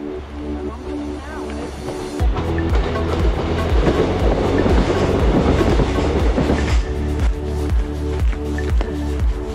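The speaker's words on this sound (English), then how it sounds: "Nice to see a steam train." A steam train rumbles steadily past at close range with rhythmic clattering of wheels over the rails, loud and continuous throughout.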